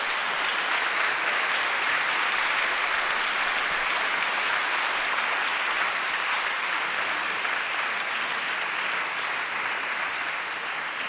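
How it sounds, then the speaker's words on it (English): Loud, continuous audience applause fills the hall after a public conversation on activism and feminism, an even wash of many hands without a break. "you can really tell from the warmth of the audience and the loud applause"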